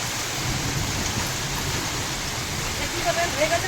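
Heavy rain pours outdoors in a steady, dense wash of noise, with a hint of voices faint underneath near the end.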